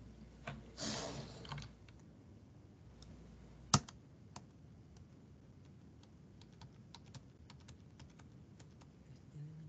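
Typing on a computer keyboard, scattered quiet clicks and taps with one sharper keystroke, a soft burst of rustling near the start, and a low room hum beneath.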